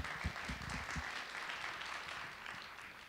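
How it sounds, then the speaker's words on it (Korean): A panel-talk audience claps to open a session, moderate applause with a few distinct claps near the start, fairly quiet and distant, settling into a soft continuous patter. "다 같이 박수로 일단 시작할게요."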